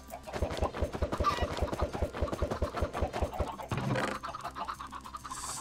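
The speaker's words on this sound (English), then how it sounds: "Chickens are growing up right now" Chickens in a farming video game, rapid rhythmic clucking and scratchy pecking sounds at a steady beat, moderately close, with no talk over it.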